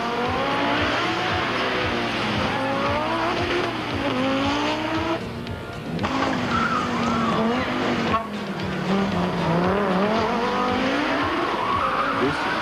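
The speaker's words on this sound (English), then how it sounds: "Our in-car camera shows just what a rough ride this final stage was." Inside a short-wheelbase Audi Quattro on a rough final rally stage at the 1988 Volkswagen Algoa Rally, the engine roars and revs continuously, with tyre squeal and rattling, close and loud throughout.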